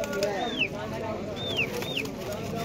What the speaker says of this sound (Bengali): পাঞ্জাবি দোবাজ পায়রা।